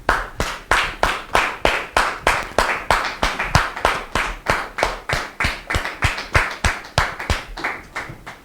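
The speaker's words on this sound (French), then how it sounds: "On les reçoit sous vos applaudissements," Rhythmic clapping from a studio audience welcoming guests onto a French-language talk show, loud and close, steady and evenly paced beats repeating for over eight seconds.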